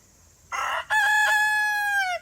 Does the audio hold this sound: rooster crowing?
yes